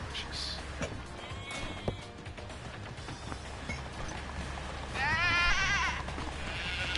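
A sheep bleats once, near and clear with a wavering, quavering cry, over an outdoor background of wind, rustling and faint voices.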